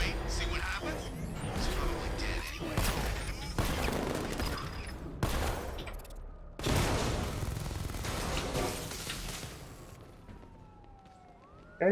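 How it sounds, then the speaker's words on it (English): Batmobile in the Arkham Knight video game firing non-lethal rounds across a parking lot, with rapid bursts of loud automatic fire and impacts in several volleys, sirens wailing in the background and someone talking over it. "we're gonna use our Batmobile to go up this parking lot and shoot these guys with some non-lethal rounds"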